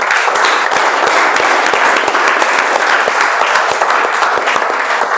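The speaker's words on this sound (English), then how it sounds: "I want to listen the thunderous applause," Loud, dense, sustained applause fills a Toastmasters club meeting as an award is announced, with steady clapping from many hands and no talk over it.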